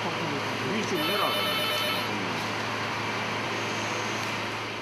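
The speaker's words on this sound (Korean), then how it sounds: "그때 전화 한 통이 걸려왔다." A telephone rings with a repeating electronic tone over a steady background hum in a construction site office, while a voice talks over it.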